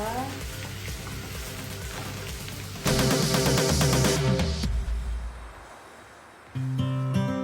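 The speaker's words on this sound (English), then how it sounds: "when your potato starts browning like this, you add your onions like so, and stir" Onions tossed into browning potatoes in a frying pan: a sizzle that flares loud when they go in, then eases off under stirring, with a fresh burst near the end.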